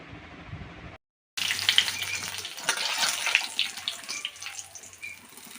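Cumin, a piece of cinnamon and bay leaf drop into hot mustard oil in a kadai, setting off a sudden loud hiss after a brief silence that settles into a steady crackling sizzle, up close with no voices.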